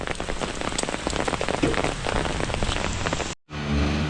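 Dense, loud rain from a sudden Konkan downpour hammers a surface in a continuous roar, briefly cutting out before resuming.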